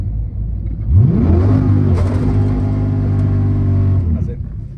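A Ford Mustang Foxbody launches hard from a standstill at a drag strip, its engine note climbing in a steady rising rev for about three seconds before cutting off, loud and close with no talk over it.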